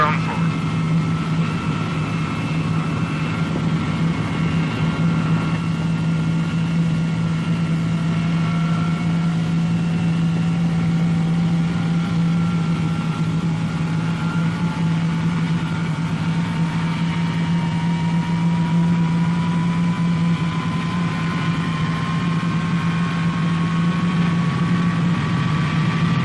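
Engine number four of a Boeing B-47 Stratojet bomber starts up, its whine rising slowly in pitch over a steady low rumble and hum.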